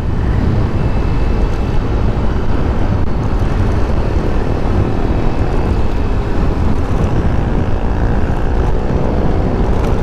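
A new automatic scooter-style motorcycle rides through traffic on the way to Tagaytay, with a steady, close engine drone and dense road and wind rumble running unbroken and loud throughout.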